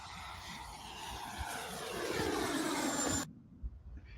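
A radio-controlled BAE Hawk model jet flies past with a steady, loud whooshing roar that swells and then cuts off abruptly near the end, leaving faint background noise.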